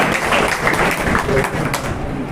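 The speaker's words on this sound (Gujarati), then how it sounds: "આપણે તાળીઓથી વધાવીશું." Audience applause at a school farewell ceremony for Std 10 and 12 students at K. B. Patel Vidyalaya, Finchod: steady, dense clapping from a crowd that holds evenly for a couple of seconds.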